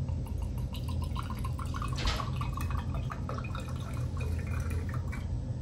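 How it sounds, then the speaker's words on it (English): Salt solution of 0.25 molar strength poured from a container into a glass beaker, a steady continuous liquid splash and trickle running throughout with no talking. "So then I'm going to dump that into our third beaker."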